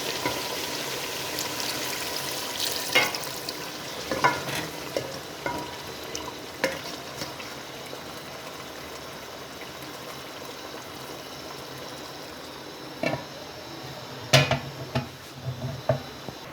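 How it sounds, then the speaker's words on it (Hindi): Water is added to potatoes and peas frying for a curry, giving a steady sizzle close by, with scattered clinks and scrapes of stirring in the pan and no talk. "अब इसमें थोड़ा सा पानी ऐड करके ढक के लगाते हैं।"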